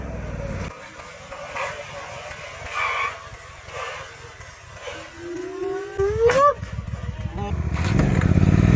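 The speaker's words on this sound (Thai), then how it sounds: "ยัดคันเร่งเตะเกียร์เข้าไปรัวๆ ไม่ต้องห่วงเรื่องกำคัส เพราะว่าควิกชิปอัพจะทำงานให้เราแบบอัตโนมัติ" Suzuki V-Strom 800DE motorcycle accelerating hard, its engine note climbing in pitch through the rev range before a quick gear change, then pulling again with a louder rising roar close by.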